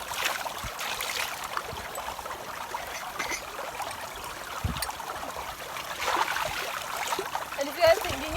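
Dishes being washed in clear stream water in a mountain village: continuous splashing and trickling with occasional clinks, fairly close, under a steady rush of flowing water and some background voices.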